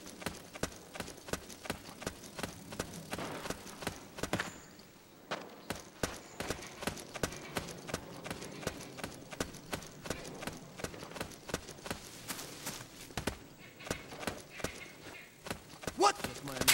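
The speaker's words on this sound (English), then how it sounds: "I hear footsteps." Footsteps in the video game Metal Gear Solid 4, a steady rapid run of hard, clopping steps continuing throughout, fairly close, with faint voices and game sounds underneath.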